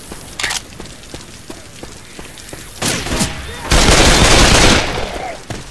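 Rapid gunfire from the zombie shooter game Left 4 Dead 2, with bursts of automatic shots and a heavy, sustained barrage near the middle, loud and close, mixed with game sounds.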